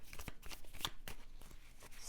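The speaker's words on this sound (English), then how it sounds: "I know y'all can't see me shuffling, but I am." Tarot cards being shuffled by hand, a faint close run of soft riffling flicks and slaps over about two seconds.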